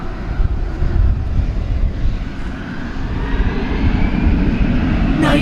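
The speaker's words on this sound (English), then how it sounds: "American Flight 303 is going to Spokane, Washington on this Airbus A320." An American Airlines Airbus A320 on the move at DFW Airport at night, its engines giving a loud, steady roar that swells slightly toward the end, with no talk over it.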